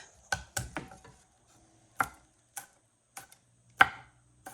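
Garlic cloves chopped with a knife on a board in a home kitchen: a quick burst of three or four sharp knocks, then single crisp strikes at uneven intervals, close and alone with no talk.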